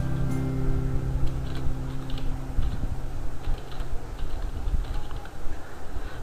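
Close, steady clatter of keys on a computer keyboard as text is typed into an MS Word document, quick irregular taps running throughout with no talking.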